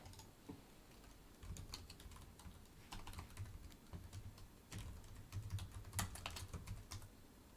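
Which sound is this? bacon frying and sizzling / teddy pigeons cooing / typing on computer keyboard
typing on computer keyboard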